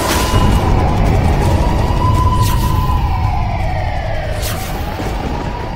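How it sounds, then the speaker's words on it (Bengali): Police siren wailing, a loud rising and falling tone over a heavy rumbling background, sustained throughout with no speech. "আমি পুলিশের হুটারের আওয়াজ পেলাম"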